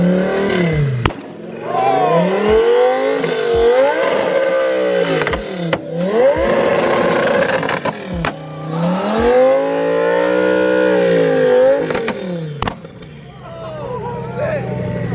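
Loud car engine revving at a hypercar meet, repeated rising and falling roars with sharp pops between bursts, close and powerful, with people talking around it.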